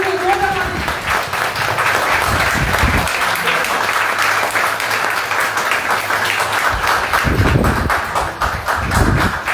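A large audience at a network marketing seminar gives loud, sustained applause to welcome a guest, a dense continuous clatter of clapping with a speaker's voice breaking through over it at moments.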